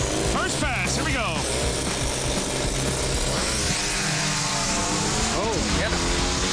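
Turbocharged VW Bug on a drag racing pass: a loud, steady engine roar fills the whole stretch, with rising and falling rev sweeps and people talking and cheering over it.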